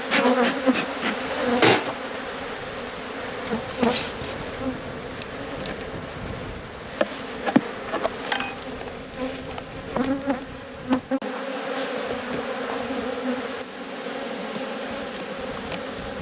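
Honey bees buzzing steadily and close during a springtime hive inspection, a dense insect drone with intermittent knocks and scrapes of the hive boxes being worked, no speech.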